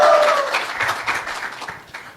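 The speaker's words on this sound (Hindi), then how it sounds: "मोदी जी के लिए ताली बजाइए साथियों" An audience claps for Modi ji, a brief, fairly loud burst of scattered applause that fades out over about two seconds.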